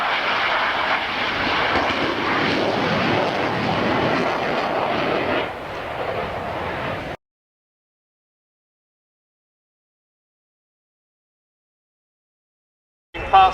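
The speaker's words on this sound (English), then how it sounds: "our two CF-101B models are going to light the burners once again. Watch as they make the pass." A pair of CF-101B Voodoo jet fighters roar past with afterburners lit, a loud broad rushing blast that holds for about seven seconds then cuts off abruptly into silence.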